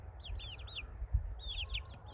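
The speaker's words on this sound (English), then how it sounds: "here are the chickens, observing the whole thing" Chickens making short clucking and chirping calls in two bursts over a low outdoor rumble, moderately near but fairly faint.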